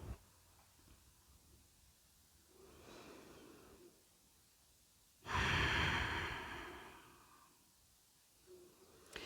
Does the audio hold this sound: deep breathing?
yes